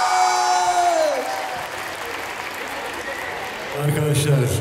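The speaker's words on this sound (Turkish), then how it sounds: "kocaman bir alkış" Concert audience applauding at an outdoor park show in Istanbul, a broad wash of clapping and crowd noise that builds again toward the end, with a fading musical tone underneath early on.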